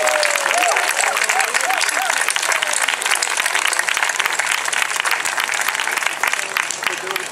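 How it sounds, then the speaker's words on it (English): A rally crowd for voter registration breaks into steady, dense applause that holds at full strength for several seconds, with a brief whoop or cheer near the start. "all of us need to give a big round of applause to Arise Chicago"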